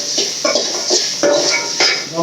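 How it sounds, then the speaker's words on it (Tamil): Onions, curry leaves and spices being sautéed in a pan for a quail gravy, heard as intermittent metal clinks and scrapes of a spatula against the pan, close and fairly loud, with no one talking. "காடைக்கு வதக்கிட்டுருக்கோம்."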